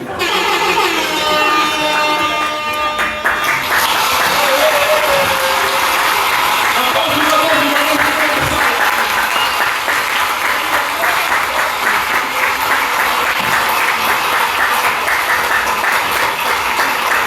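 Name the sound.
applause for the chief guest at a movie launch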